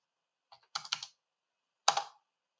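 Typing on a computer keyboard during logo design work: a few close, quiet key clicks in a short cluster, then a single firmer keystroke after a pause, with no talk.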